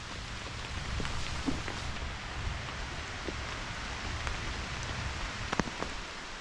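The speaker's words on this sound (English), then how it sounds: "this has gone through numerous hours of rain so far" Rain falling on a cheap trekking pole tent, a steady hiss of drops on fabric with scattered louder individual taps, continuous and moderately close, with no voices.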